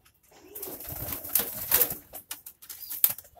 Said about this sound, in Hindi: एक और दिखा देता हूँ आपको प्योर मलवई कबूतर।